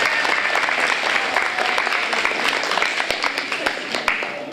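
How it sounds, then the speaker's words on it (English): An audience at a Young Eagles aviation rally applauds to welcome a young speaker, a loud, steady patter of clapping with distinct nearby claps, under some background voices. "If you welcome him with a round of applause, he'll do that"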